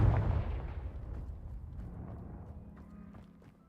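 A Confringo blast spell bursts in a Harry Potter video game, a loud low explosive boom at the start that rumbles and slowly fades over several seconds.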